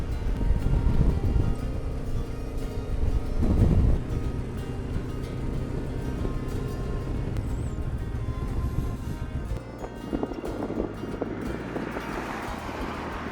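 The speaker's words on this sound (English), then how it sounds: "Well, pretty windy here" Strong wind roars through a tunnel on a rainy high mountain road at 3,800 m in China, heard from a Benelli 702 motorcycle, a steady loud rush with low rumble that shifts and hisses brighter toward the end.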